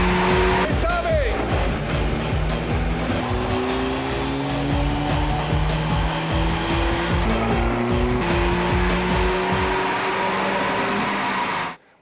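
Race car engine fired up on a dyno, roaring loud and steady for the full run with gear-change steps in pitch, then cutting off abruptly at the end; voices shout faintly underneath.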